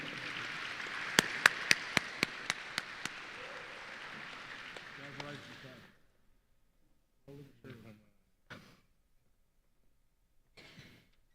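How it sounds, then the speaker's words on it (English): A banquet crowd at a Texas DOT safety event applauds Chris, a few sharp individual claps standing out before the clapping dies away after about six seconds, leaving near silence broken by brief bits of voice. "All right, let's give Chris a round of applause."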